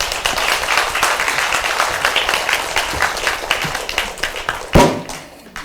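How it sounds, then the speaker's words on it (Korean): A congregation claps for a guest speaker at a Sunday morning service in a Chuncheon church, lively applause throughout that peaks with a sharp burst near the end before tapering off. "우리 나오실 때 뜨거운 박수로 한번 격려해 주시면 고맙겠습니다"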